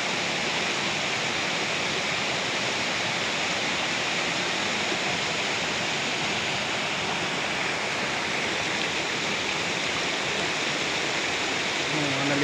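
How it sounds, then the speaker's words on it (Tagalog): A mountain stream on Mount Isarog rushes and splashes at a bathing spot, a loud, steady broadband roar of flowing water filling the whole span without pause. "Wagas-was lang ng tubig ang inyong maririnig."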